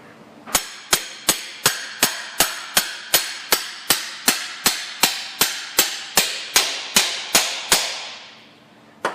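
Hammer tapping a left-hand axle seal into a Ford Fusion 6F35 transmission case: about eighteen sharp, evenly spaced metallic taps, close and loud, with no talking.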